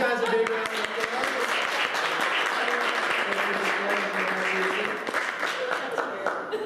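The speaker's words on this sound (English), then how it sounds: "give these guys a big round of applause" Loud, sustained audience applause fills the room after a mentalism demonstration by a magician at a business association event in Atlanta, dense clapping steady throughout without a break.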